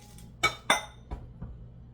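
Kitchen dishware clinks as a bowl is pulled out for a swai fish meal: two bright ringing clinks close together, then a couple of softer knocks, heard alone.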